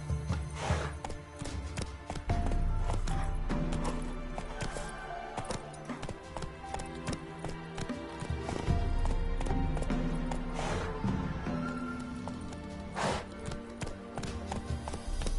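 Roach, Geralt's horse in The Witcher 3: Wild Hunt, gallops in a steady, rapid clip-clop of hooves that runs throughout, close and prominent under a layer of music.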